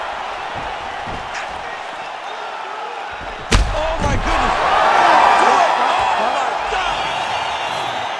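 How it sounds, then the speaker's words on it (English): A virtual arena crowd in the UFC 5 fighting video game roars after a sharp impact thud at a fight-ending knockout, the cheering swelling and holding steady under a commentator's excited voice. "crowd loving it"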